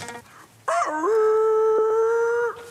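A dog gives a single drawn-out howling yelp, starting abruptly and holding a steady wavering tone for about two seconds before cutting off, close and clear with little else around it.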